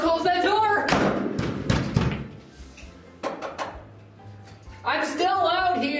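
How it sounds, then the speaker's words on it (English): A door is shut during a comedic outtake, with thuds and knocks among overlapping voices, and a person shouts in protest as it closes. "Wait, don't close that door!"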